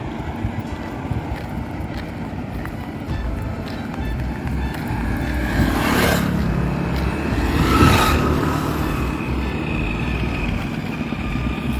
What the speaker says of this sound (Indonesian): di sini banyak kendaraan yang melintas, baik itu roda 2 maupun roda 4